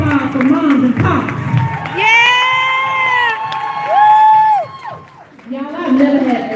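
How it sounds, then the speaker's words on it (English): An audience cheers for parents with rising whoops and shouts swelling over a crowd murmur, while a person talks at the start and again at the end. "Give a round of applause for moms and pops."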